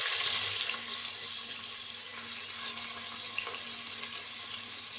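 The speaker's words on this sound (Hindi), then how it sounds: "मैंने पैन में ऑयल डाल दिया है, 1/2 कप ऑयल डाला है और इसके अंदर मैं प्याज डाल दूँगी।" Onions added to half a cup of hot oil in a pan, frying for a Punjabi kadhi pakora; a steady, moderately loud hiss and crackle of sizzling runs throughout, with no talking.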